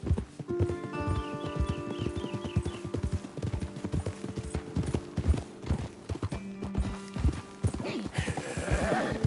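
Horses in the Red Dead Redemption 2 video game walk with steady hoof clip-clops while one neighs early on, over game background music; a voice speaks briefly.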